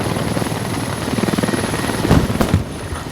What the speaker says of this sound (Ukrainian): Працює ворожий вертольотик.